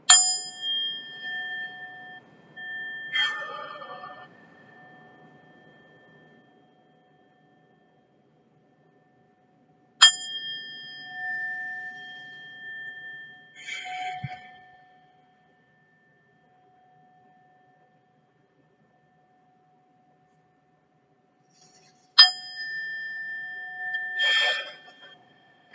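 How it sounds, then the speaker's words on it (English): Chime struck three times for a chalice lighting, with the strokes about ten seconds apart. Each stroke is a clear ringing tone that slowly fades, followed by soft breathing in a quiet room. "So we can breathe at the sound of the chalice."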